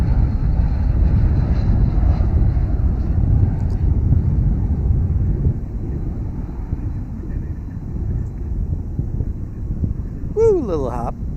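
A jet airliner landing at DFW airport, a loud sustained engine roar and rumble with wind buffeting that gradually eases toward the end.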